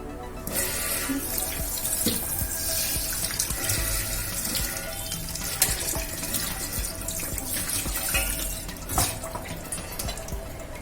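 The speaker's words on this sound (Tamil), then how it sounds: "ஒரு தடவை வாஷ் பண்ணேன் அண்ட் தண்ணியில் காட்டினேன்" Running tap water splashes steadily into a sink as a washed dish is rinsed, a continuous broad hiss with occasional louder splashes and clatter close by, no voices.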